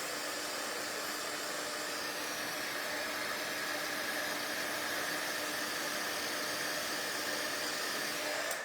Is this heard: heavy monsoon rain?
no